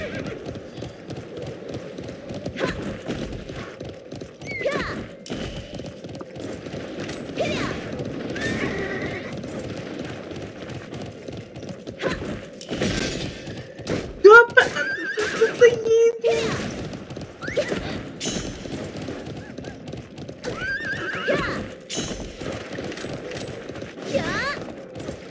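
A horse neighs and whinnies several times while hooves clip-clop and thud nearby, with someone talking over much of it.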